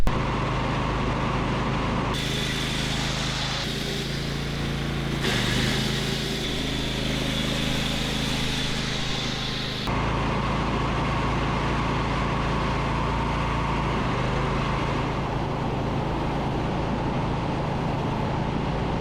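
A renewed lawn mower engine runs steadily throughout, a loud continuous drone with a deep low hum, shifting in tone partway as the mower passes close by and then settling back to an even, slightly more distant roar.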